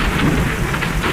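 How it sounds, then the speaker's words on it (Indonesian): Heavy rain pours down with rolling thunder, a loud, dense, steady roar of drops on surfaces with low rumbling underneath, close and continuous with no talking. "hujan terlalu deras dan banyak petir juga teman-teman"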